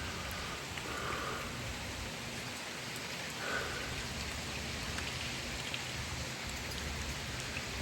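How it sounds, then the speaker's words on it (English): Heavy rain falls steadily ahead of Hurricane Milton, a dense, even hiss of drops on surfaces that stays constant throughout with no voices. "we had lots of rain"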